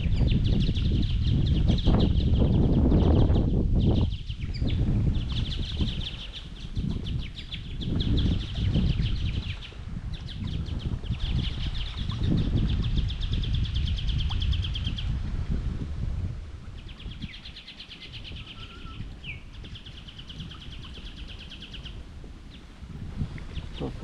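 Birds chirp and sing faintly by a river through strong, gusty wind noise buffeting the microphone, with rustling throughout.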